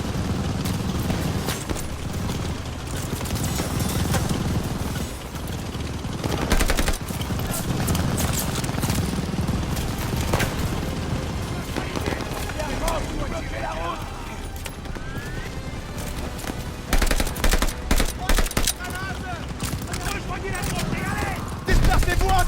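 Battle combat in Call of Duty Vanguard, with bursts of machine gun fire and scattered gunshots crackling through a dense, loud war soundscape while soldiers shout orders over it.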